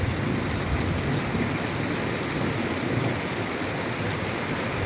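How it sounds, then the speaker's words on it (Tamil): Steady rain and wind rush, a dense broadband hiss throughout with no clear individual drops, loud and continuous, no voices. "காற்று மழைக்கு சின்ன சாரல் வருது"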